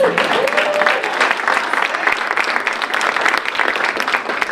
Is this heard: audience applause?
yes